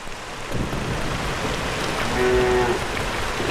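Steady rain pours down, loud and continuous, with a low rumble rising partway through; no one speaks.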